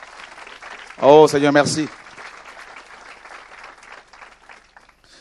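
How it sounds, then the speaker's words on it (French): A church congregation bursts into brief applause and cheering, a loud burst of about a second overlapping a voice, which then carries on speaking alone. "On acclame le Seigneur pour sa parole."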